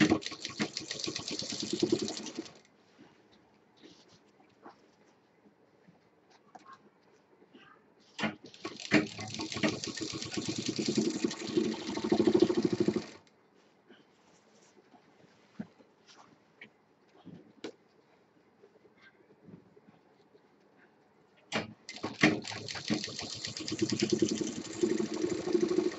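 A sewing machine stitches a triple-zip shoulder bag in three loud bursts of running, at the start, middle and end, with quiet pauses between them.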